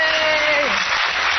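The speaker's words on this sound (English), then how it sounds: "Round of applause for Melcie." Audience applause for a guest named Melcie, a broad steady wash of clapping filling the whole moment at even loudness.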